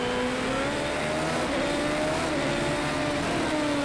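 Open-wheel race car in Project CARS 2, a loud continuous engine whine with steadily rising and shifting pitch as it accelerates through gears, close and alone without talk.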